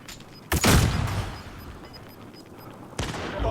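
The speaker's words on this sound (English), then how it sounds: "Flashbang out." A flashbang grenade detonates in a first-person shooter match with a sharp, loud burst, followed by a fainter crackle of game noise and a second sudden blast near the end.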